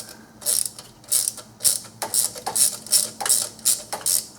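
A ratchet loosens the intake manifold bolts on a 2009–2019 Dodge Ram 5.7L Hemi, in a rapid series of sharp clicking bursts with brief pauses between pulls, close up and clear.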